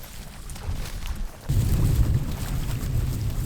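Wind buffets the microphone with a low rumbling roar that grows stronger halfway through and keeps blowing steadily.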